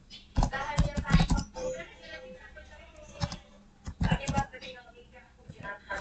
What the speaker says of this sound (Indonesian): Kemudian kita ketik perintah